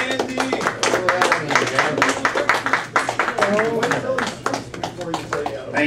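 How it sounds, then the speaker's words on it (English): A small audience gives a round of clapping to welcome a speaker at an evening talk, individual claps distinct and close, mixed with voices and chatter throughout. "welcome with our esteemed round of applause, Andy Anderson"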